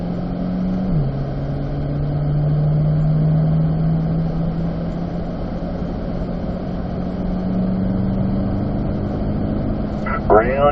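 A C8 Corvette rolls through an easy warm-up lap on a race track at a performance driving school, its engine a steady in-cabin drone that dips in pitch early on, then holds and slowly rises.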